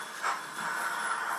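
A model train run by JMRI control hisses and rumbles steadily as it slows toward a stop, a faint continuous whir with no voices over it.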